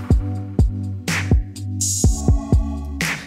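A closed hi-hat in a hip-hop beat ticks in short bright chirps over punchy kicks, snare cracks and a sustained low synth, with a hissy high wash appearing midway and again at the end.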